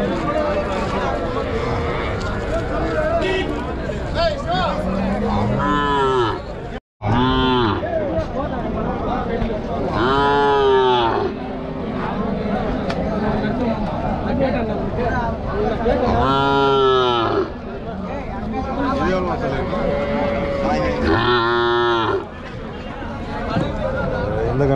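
Native cattle at a village cattle market in Vaniyambadi, with repeated moos and lowing rising over a steady crowd babble, close and loud, while people talk and haggle throughout.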